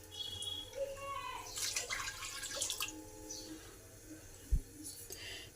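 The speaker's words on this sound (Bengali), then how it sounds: "এবার আলুগুলোকে ডুবিয়ে জল দিয়ে দিলাম।" Water poured over washed potatoes inside a pressure cooker, a steady splashing rush with bursts of louder sloshing, close by and mixed with some background kitchen noise.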